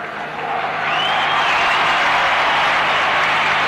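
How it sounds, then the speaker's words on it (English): A baseball crowd at Busch Stadium roaring and applauding for Curt Flood, the broad, loud cheer rising quickly and holding steady. "A real roar from the crowd for Flood."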